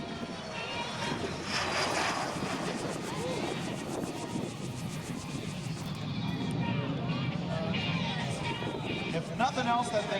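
A jet aircraft takes off at an airshow with a pilot in his seventies at the controls, giving a loud, steady roar that fills the whole stretch and swells slightly toward the end.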